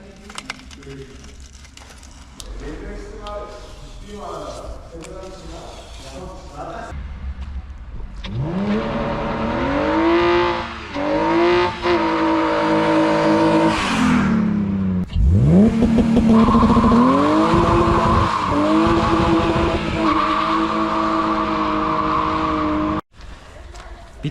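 A loud modified engine, from a BMW E36 or Megane track car, revs repeatedly, climbing and dropping in pitch, then roars hard at high revs with tire squeal, close by.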